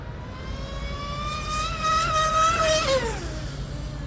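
M700 Mono RC boat motor on a speed trial run below full throttle, a thin high electric whine that climbs in pitch, swells, then drops and fades, heard from a distance over steady background hiss.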